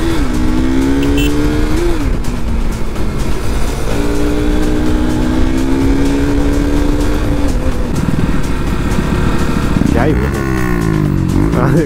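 A Hero Splendor motorcycle fitted with a loud aftermarket exhaust revs and drones steadily in traffic, its engine note rising and falling, close and loud, with someone talking over it.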